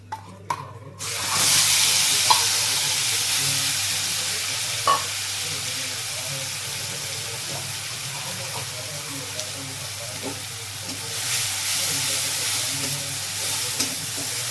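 Black cumin and five-spice crackle and sizzle in hot oil in a home kitchen, a steady hiss with a few sharp spatters and clinks of stirring running throughout.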